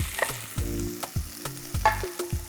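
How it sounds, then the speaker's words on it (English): Onions and shaved corn sauté in a pan, a light sizzle with brief crackles and stirring knocks over music playing in the background. "So you want to caramelize the onions a little bit and the corn"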